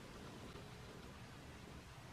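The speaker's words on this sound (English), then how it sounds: "I'm sorry if you can hear it raining in the background." Steady rain falling outside a window, a faint continuous broadband hiss with no distinct drops or thunder, heard alone without speech.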